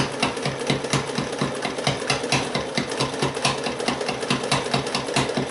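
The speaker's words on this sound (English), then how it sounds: "This is a very old sewing machine." A very old sewing machine, owned for 42 years, back-stitching along the edges of double-sided curtains. It runs with a steady, rapid mechanical stitching rhythm that stays close and continuous throughout, with no talk.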